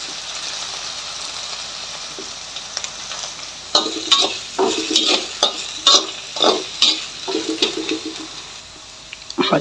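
Potatoes frying in a pan for a sabudana fasting dish, a steady sizzle with a run of close, sharp stirring scrapes in the second half.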